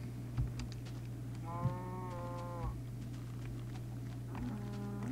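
A cow in a crafting video game lets out two drawn-out moos, the second cut short, over a steady low hum and a few soft thuds.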